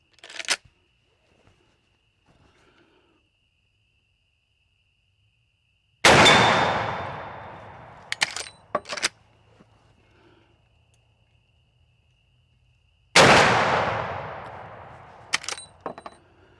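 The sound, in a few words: Henry 45-70 rifle shots hitting steel targets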